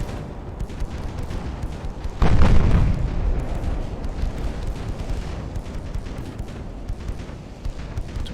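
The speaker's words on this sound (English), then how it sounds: "Now she's just going to die to this hail of small caliber fire." Naval gunfire in Ultimate Admiral Dreadnoughts: one deep booming blast lands loud and close, then a steady crackle of smaller-calibre fire and rumbling keeps going behind it.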